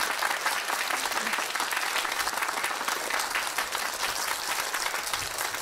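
Audience applause fills the space with dense, even clapping that holds steady throughout, a continuous wash of many hands without pauses.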